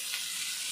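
Marinated skewer kebabs frying in hot oil give off a brief, even hiss of sizzling, close by and fairly quiet, with no talking.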